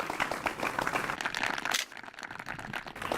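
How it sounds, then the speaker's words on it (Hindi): Studio audience clapping for a farmer who won a Hindi vegetable-farming quiz show, a dense, steady patter of many hands with a brief dip before resuming. "और जोरदार तालियां एक बार फिर से।"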